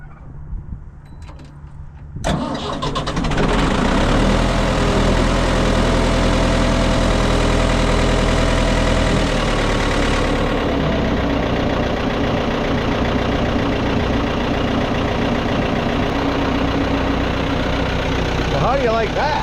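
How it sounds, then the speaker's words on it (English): A farm tractor engine cranks and fires after a couple of seconds, then settles into a loud, steady idle with a constant low rumble and vibration. "let's see if the tractor starts"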